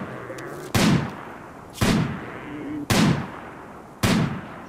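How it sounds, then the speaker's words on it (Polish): Four evenly spaced gunshots in the colony game RimWorld, each a sharp loud crack with a short decaying tail, roughly one per second, with a faint background hum between them. "Strzelaj tambo."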